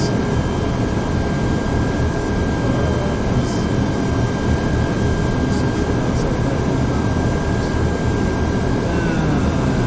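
Airliner engines during descent in Microsoft Flight Simulator X, a loud, constant jet roar with a steady high whine running through it and a few faint clicks.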